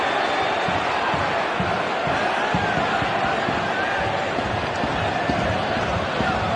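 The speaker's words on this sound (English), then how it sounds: "That gets a large cheer from the travelling support." Travelling football supporters in a stadium roar at a yellow card shown to the Motherwell captain, a dense, sustained crowd noise from a distance with a commentator talking over it.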